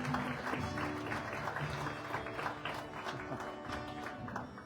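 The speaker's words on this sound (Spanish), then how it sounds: "Dele un aplauso al Señor," Church congregation applauding the Lord during a Spanish-language service, a full, continuous clapping with a low hum of voices and instruments underneath, steady throughout.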